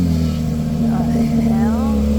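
A Porsche 911 GT3 engine runs with a steady, loud low drone after key start, continuous throughout with strong low harmonics, while people talk over it nearby.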